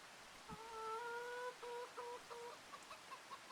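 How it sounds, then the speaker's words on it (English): Chickens in a farm-sim game coop cluck and warble in short tonal calls, several overlapping bursts close by with gaps between, no talking. "we have a chicken coop over here with a whole bunch of chickens"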